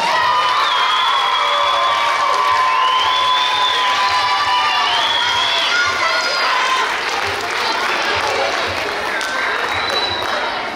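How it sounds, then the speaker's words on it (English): Loud, sustained applause and cheering from a crowd of children at an elementary school state test pep rally, with shouts and whoops over a dense wash of clapping that fills the whole stretch without letting up. "Let's give them a round of applause."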